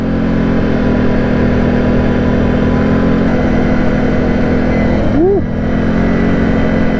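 Can-Am V2 engine running steadily while the vehicle is driven gently to warm up, a loud continuous drone with a brief pitch sweep near the end.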